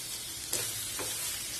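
Chopped ridge gourd sizzles in hot oil in a pan, a soft steady frying hiss with a couple of brief stirring scrapes, fairly faint and without talk.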